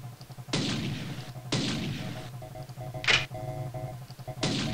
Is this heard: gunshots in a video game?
yes